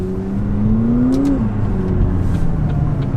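A McLaren drives past close by, its engine note rising steadily as it accelerates and then easing off into a smooth, steady hum.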